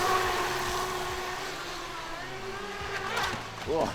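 An H-King Aquaholic V3 brushless 4S RC racing boat whines steadily as it carves through a turn on the water, the motor pitch holding high and rising again near the end, with people talking over it.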